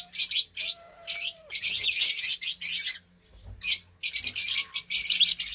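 Pet parrots, including a yellow one, call in bursts of shrill, sharp squawks and chirps, close and loud, with short gaps between the outbursts and no talk.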